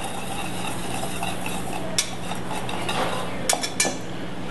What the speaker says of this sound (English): You just kind of stir these together.